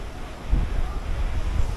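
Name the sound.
sea waves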